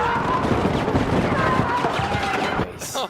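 A shotgun fires in a fast-paced multiplayer shooter game, with dense, booming gunfire bursts running continuously under excited voices before cutting out abruptly near the end.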